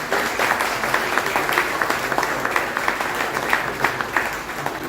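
An audience at the inauguration of a park in Sainte-Anne, Guadeloupe, claps steadily for a family, a dense, even patter of many hands at moderate distance with no voices over it.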